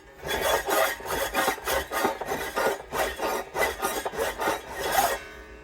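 Fret ends on a Gretsch Streamliner guitar are filed in quick, rhythmic rasping strokes, about a dozen back-and-forth scrapes close up with no talk.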